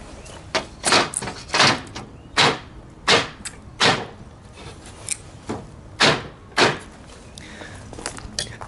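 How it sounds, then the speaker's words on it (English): A glass pane is slid out of an old hand-made wooden window sash in a run of about ten scraping, knocking bursts at irregular intervals, close and fairly loud, with no talk. "I can just slide the glass out then"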